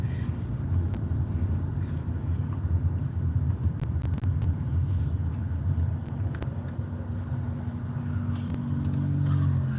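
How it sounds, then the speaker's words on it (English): Heavy road traffic with cars passing, a steady low engine rumble and drone holding throughout at a constant moderate level, with a vehicle swelling nearer toward the end. "This is heavy traffic, by the way, for us."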